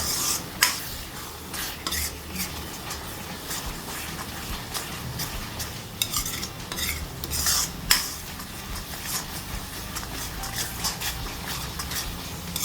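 Gujarati masala with coriander-cumin powder cooking down in a pan for tuver na thotha: quiet, steady spoon scraping and stirring with a faint sizzle underneath and occasional sharper clinks, close but low in level, no voices.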